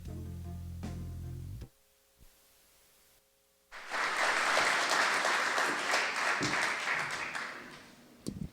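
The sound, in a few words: audience applause welcoming Rudy Trevino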